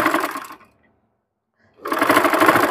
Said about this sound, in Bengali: আস্তে আস্তে আমি এরকম ভাবে সম্পূর্ণটা সেলাই করে নেব।